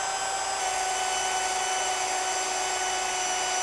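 A power drill runs continuously and loudly in a home woodshop, a steady high-pitched motor whine with no pauses and no speech.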